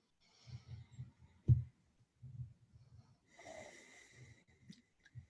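A person taking slow, deep breaths, heard as faint, soft, low airy inhales and exhales in a loose rhythm, with one sharper snort-like burst and a longer breathy stretch near the middle, and no talking.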